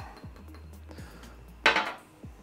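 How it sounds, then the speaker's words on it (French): Ground coffee added to the bottom of a hot glass French press: a few dull knocks and taps of a scoop or spoon against the vessel, with one brief louder scraping pour in the middle, no talk. "La cafetière est chaude, je rajoute donc mon grain directement au fond."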